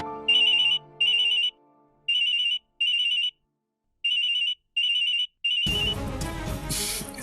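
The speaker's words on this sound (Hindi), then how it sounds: "सिमर, एक इम्पोर्टेंट कॉल, मैं भी आता हूँ।" A phone ringtone chirps in a repeated pattern of short electronic trills, loud and close, in pairs separated by pauses, before television-drama background music takes over at the end.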